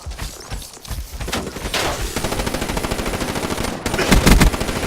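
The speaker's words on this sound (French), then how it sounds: "Pourquoi tu tires sur ce machin là" Rapid machine gun bursts in Call of Duty Black Ops 3, loud and close, firing almost continuously with a heavier volley near the end and no talk over it.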